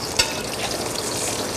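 Onions dropped into hot ghee, a brief sharp hiss at the start giving way to steady, close frying sizzle, continuous and fairly even throughout.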